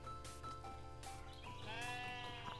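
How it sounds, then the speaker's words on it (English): Sheep bleating loudly and close in a video game, several wavering bleats one after another over music. "Mama sheep!"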